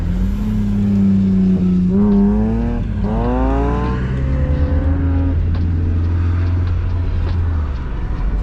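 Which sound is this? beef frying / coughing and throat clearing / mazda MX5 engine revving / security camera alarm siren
mazda MX5 engine revving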